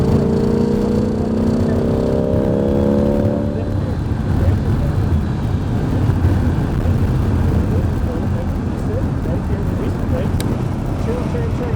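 A Corvette C8 Z51 accelerates on a race track, its engine note rising in pitch early then becoming a loud, rough roar with wind and road noise, heard from inside the car.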